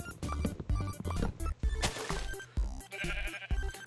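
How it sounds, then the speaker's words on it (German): Sheep bleating in Minecraft, several loud, close bleats in quick succession over busy game sounds with thumps and clatter. "Hast du mich erschreckt, Schaf?"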